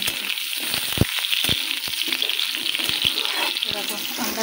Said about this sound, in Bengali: আমড়াগুলো একদম পুরো তেলে কষানো হয়ে গেছে